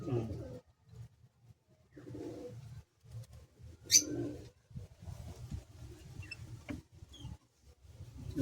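Golap blood pigeons in a loft coo in soft, low, rhythmic pulses under intermittent nearby speech, with one brief high squeak partway through.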